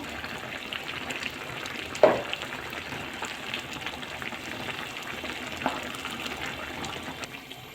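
Eggplant slices for moussaka cooking in a single pot on the stove, giving a steady soft sizzle and bubbling hiss throughout, with a couple of brief louder clatters near the start and middle; no talking.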